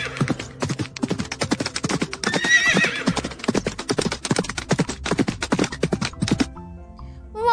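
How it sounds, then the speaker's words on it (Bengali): A horse gallops with a fast, steady clip-clop of hooves. It lets out a shrill neigh partway through before the hoofbeats trail off. "ঘোড়া ছোটে অনেক জোরে।"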